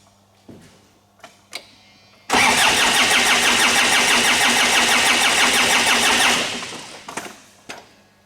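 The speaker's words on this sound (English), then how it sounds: "So what we're going to do is we're going to crank the engine" A Ford Ranger / Mazda BT-50 with a cranks-but-no-start fault is cranked: a loud, steady starter-motor churn runs for about four seconds without catching, preceded and followed by a few faint clicks and knocks.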